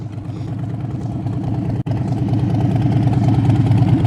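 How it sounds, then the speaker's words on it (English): A motorcycle engine lugs at too-low revs during slow-speed riding practice, a steady low, throbbing chug that runs the whole time with one brief dropout partway through. "you got to listen to your engine. You hear it going, glug, glug, glug,"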